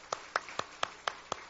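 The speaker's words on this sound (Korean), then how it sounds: "예, 박수로 한번 하십시다." Church congregation clapping together, giving six evenly spaced, moderately faint claps in a steady rhythm over a low background hum.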